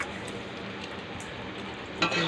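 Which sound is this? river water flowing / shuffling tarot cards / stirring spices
stirring spices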